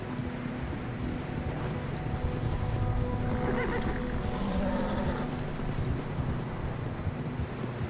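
A horse whinnies amid heavy wind noise, with galloping hooves clopping steadily underneath, from the video game Red Dead Redemption II.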